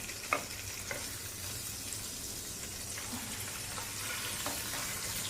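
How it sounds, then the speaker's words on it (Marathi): Fish fries in a pan with a steady, close sizzle and occasional light clinks of a utensil, with no talking over it. "आता आपण फिश पलटी करून बघूया झाली आहे का एका साईडने"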